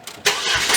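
A Saturn car with a straight-pipe exhaust cranks briefly and then bursts into a loud, raw roar that holds steady at close range.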